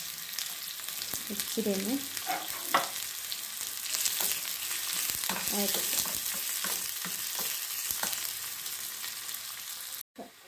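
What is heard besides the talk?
chopped onions and chilies frying with mustard seeds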